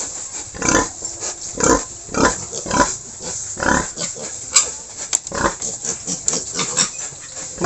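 Fattening pigs grunt and snuffle repeatedly at close range, a series of short rough oinks in irregular rhythm, with no talking.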